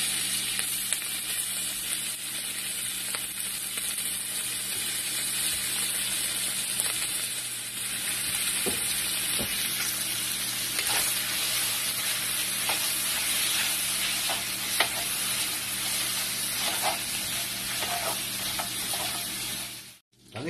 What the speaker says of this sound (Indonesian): Kaki Chen, lagyan na natin itong bacon natin.